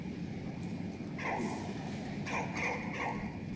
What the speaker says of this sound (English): Oh! Doggie! How'd you get out?